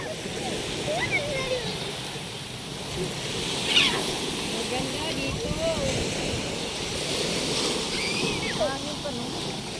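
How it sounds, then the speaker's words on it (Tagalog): Strong sea waves at a beach rush and roar continuously close by, with wind buffeting the microphone and people shouting and talking over the surf. "Malakas yung alon"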